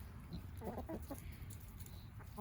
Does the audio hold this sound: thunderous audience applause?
no